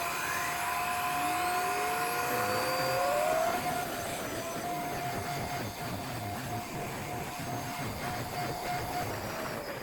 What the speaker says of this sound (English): Let me vacuum another stair step and collect some more dust and hair in the container.